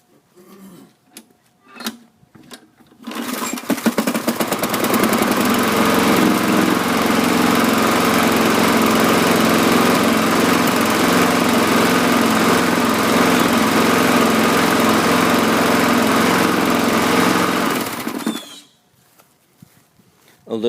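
A small push lawn mower engine starts up and runs at a steady rough idle, set too low and a little smoky, for about fifteen seconds, then cuts out, with faint sounds around it.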